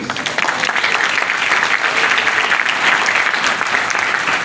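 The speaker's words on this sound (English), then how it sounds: "Give yourselves a round of applause." Audience applause at a speech on Africa and the digital future, dense, loud and steady throughout, with no voices over it.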